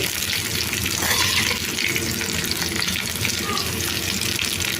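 Green chillies frying in a pan, making a close, steady sizzling hiss with faint crackles and a low background rumble, with no voices.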